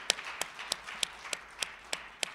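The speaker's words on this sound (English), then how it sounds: "Let's give them a big round of applause." Meeting attendees applauding birthdays at a Rotary club meeting, heard as a faint, sparse clap at a slow even pace, about eight distinct claps spaced roughly a third of a second apart.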